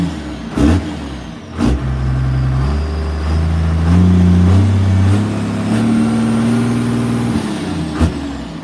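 A modified garbage truck engine revs up and settles repeatedly, loud and close, with a hiss of air brakes and brief knocks between the throttle blips, no voices.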